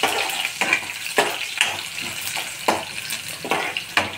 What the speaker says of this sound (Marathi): लसण पण छान परतून घेऊया।